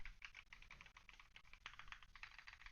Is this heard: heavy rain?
no